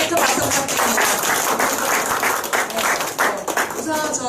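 Audience applause for a lecturer, the author Kim Guk-gi, after a talk, a dense wash of many hands clapping steadily throughout at close range, with a few brief voices mixed in.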